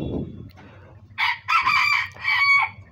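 A Cochin chicken, a bantam-type breed, crows loudly and close by in a few bursts near the end, after a brief low cluck at the start.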